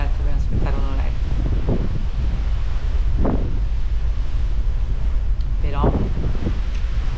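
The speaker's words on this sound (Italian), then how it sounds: "è vero che c'è vento" Wind gusting outdoors by the sea in Sardinia makes a steady, broad rushing roar that fills the whole clip, with people talking close by over it.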